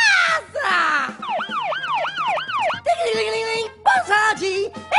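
An ambulance siren sound effect in a comedy cartoon cycles through rising and falling wails for several seconds, loud and close, with bursts of shouting and other cartoon noises around it.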